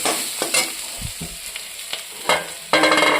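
Potatoes fry in a pan with salt and chili, a bright sizzle broken by sharp spatula stirs and scrapes, close and busy with no voices.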